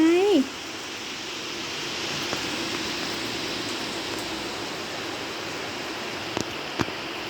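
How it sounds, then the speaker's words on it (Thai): Heavy rain pours down in a dense, steady hiss that fills the whole stretch, after a brief spoken voice at the very start, with a couple of faint sharp knocks near the end. "ฝนตกอะลูก"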